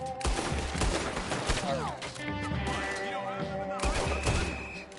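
Rapid volleys of gunfire from guns in Red Dead Redemption 2, a dense fusillade of shots with overlapping voices and game sound.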